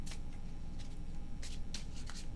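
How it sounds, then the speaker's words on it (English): Tarot cards are shuffled in several brisk riffling bursts over a steady low hiss, close and alone with no talk. "3 more shuffles."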